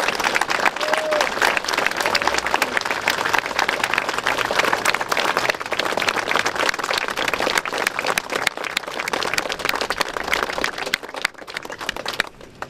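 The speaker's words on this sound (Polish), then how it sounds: "bardzo bym prosiła o ogromne brawa dla niej" Crowd at a commemoration of victims of Nazi concentration camps bursting into sustained, dense applause, loud and close, with a faint voice briefly audible under the clapping as it tapers at the end.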